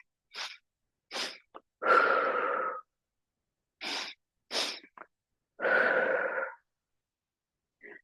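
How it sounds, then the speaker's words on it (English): Two quick sniffs followed by a long breathy exhale, repeated twice, then a final short sniff; close and clear against silence. "We're going to take in 2 sniffs of air, and then we're going to blow the breath out with a long exhalation."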